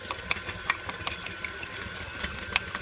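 A small hand mixer whirs steadily as it beats egg yolks, giving a faint, high motor whine with light rhythmic rattling and clicks throughout.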